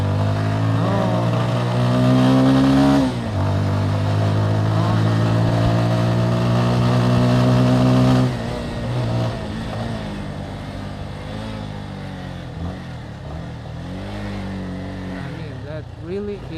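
A motorcycle riding along a wet road at night, its engine droning steadily and rising in pitch with revs, with someone talking loosely over the ride the whole time.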